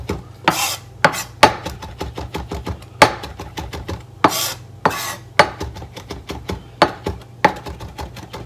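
A knife chops herbs finely on a cutting board, giving a close run of crisp, irregular taps with a few louder scraping strokes mixed in.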